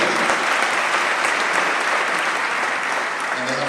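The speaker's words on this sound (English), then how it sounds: "You need to clap. Clap for them," Loud, sustained applause from an audience welcoming visiting guests at a speaking event, a dense wash of clapping that fills the whole stretch without pause.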